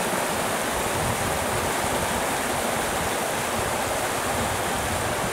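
A river in Zion National Park rushes steadily alongside a trail, a dense, continuous wash of flowing water filling the whole stretch at even loudness, with no voices.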